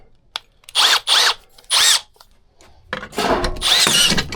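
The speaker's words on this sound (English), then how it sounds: "I gotta drill the frame." A power drill with a half-inch bit whirs in several short bursts, rising and falling in pitch as it bites into a metal frame, then a longer, rougher grinding stretch.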